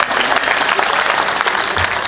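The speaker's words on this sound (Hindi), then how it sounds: "मेरे स्वागत में दोबारा जोरदार तालियां बजाएं।" Loud, dense applause fills a Hindi poetry gathering (kavi sammelan) in Gurgaon, many hands clapping continuously and close at full volume with no talking over it.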